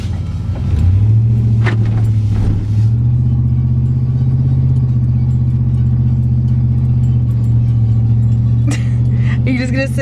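A Predator 212 go-kart engine with its governor removed runs steadily at close range, a constant droning idle that holds throughout with a few faint bumps and clicks near the end.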